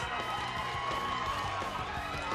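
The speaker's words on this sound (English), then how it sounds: "Look at the excitement here in the Canadian crowd." A Canadian crowd cheers at a Canada versus USA baseball game, a loud broad roar of many voices filling the space with steady excitement.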